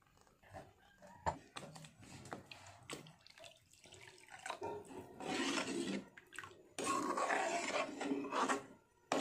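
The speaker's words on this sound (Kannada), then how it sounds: "ಇದಕ್ಕೆ ನಾವಿವಾಗ ನೀರು ಆ್ಯಡ್ ಮಾಡ್ಕೊಳ್ಳೋಣ." Water being poured into a pot of crab curry gravy, a steady close rushing splash that builds in loudness and runs in two longer bursts with brief gaps, no talk over it.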